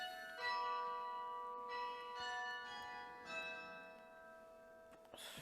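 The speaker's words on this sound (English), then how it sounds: "We're gonna need to listen to the bell, guys." Vintage church bells ringing outdoors in Nicaragua, sustained metallic tones that swell and fade in overlapping strikes, moderately distant and clear with no voices over them.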